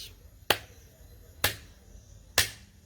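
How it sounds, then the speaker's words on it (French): Three sharp, isolated hand claps spaced about a second apart, close and crisp against a quiet background. "J'applaudis."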